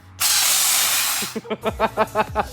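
A loud, steady hiss of nitrous oxide spraying from a hose toward a mini bike's carburetor for about a second, then cut off, followed by rapid rhythmic puffing bursts.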